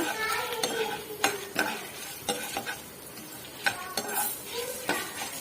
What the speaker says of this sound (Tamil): கொஞ்சம் வறுக்கட்டும் ஜீரகம் மிளகு கருக விட்டுறாதீங்க ரொம்ப வறுக்காதீங்க